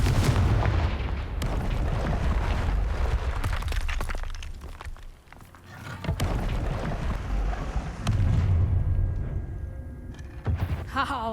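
Booming blasts from the Confringo spell in Hogwarts Legacy burst repeatedly across the scene, loud and punchy, with a quieter gap midway before more explosions and sharp cracks follow, a voice briefly heard among them.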